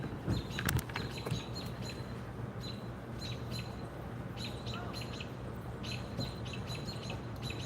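Small wild birds chirp and tweet in scattered bursts from a moderate distance outdoors, over a steady low hum of background noise.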